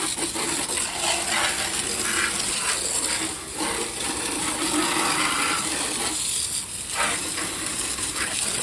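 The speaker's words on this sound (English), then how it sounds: "inside as well, you can wash the coil off as well. I like to do it like a pre-rinse." A steady, loud hiss of water spray rinses an air conditioner coil up close, with a continuous spattering rush that shifts slightly in tone as the stream moves across the fins.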